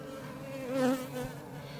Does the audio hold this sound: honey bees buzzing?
yes